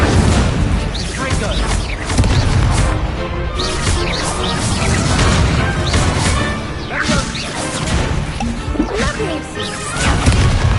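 Dense, loud combat from the Hogwarts Legacy video game on PS5, with an Incendio fire spell amid repeated crashes, booms and whooshing spell bursts that overlap without pause.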